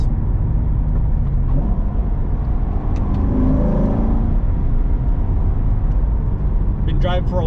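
A Corvette cruises on the road among a group of other Corvettes, its engine and road noise forming a loud, steady drone heard from inside the car, with a brief rise in pitch partway through.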